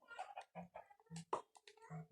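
A chicken in a video game clucks in a quick, choppy series of short calls, faint and close, with a player speaking softly alongside.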